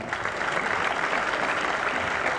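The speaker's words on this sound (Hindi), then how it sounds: "इस फिर मूर्ति के लिए एक बार जोरदार तालियां।" A large audience at an awards ceremony in India breaks into steady, full applause, a dense wash of hand clapping that holds evenly throughout with no talking.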